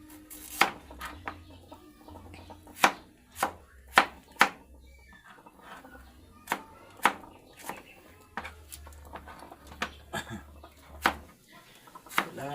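Knife chopping food into small pieces for homemade fries, a steady run of sharp, close chops on a board, with chickens clucking faintly in the background.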